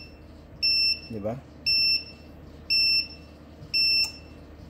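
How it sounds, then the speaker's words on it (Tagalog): A USB port-based system timer sounds its buzzer in the last 10 seconds: four loud, even electronic beeps about a second apart, close up, with a short spoken question between the first two. "Pag last 10 seconds, maririnig nyo yung buzzer."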